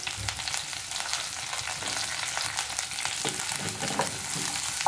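Shallots and curry leaves fry in coconut oil for a bitter gourd stir fry, giving a close, steady crackling sizzle with scattered pops and stirring clatter, and no voices.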